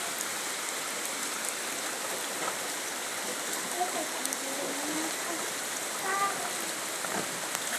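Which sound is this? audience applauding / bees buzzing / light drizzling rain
light drizzling rain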